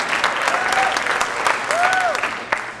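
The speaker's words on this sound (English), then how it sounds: "we need to give him a round of applause" Applause from an audience at a 2018 school district convocation, a dense burst of clapping with a few cheers and whoops rising over it, moderately loud and tapering near the end.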